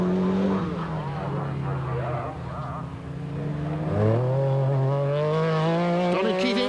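A 1991 rally car at Lurgan Park, Northern Ireland, works through a chicane, its engine note dipping and rising with gear changes and brief tyre scrabble, loud and close under continuous commentary.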